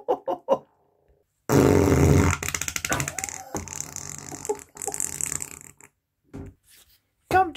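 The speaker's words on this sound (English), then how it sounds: "Fart like this," A loud, long fart-like blast of roughly one second cuts in abruptly after a short burst of voice sounds, followed by scattered rasping bursts and a brief vocal noise at the end.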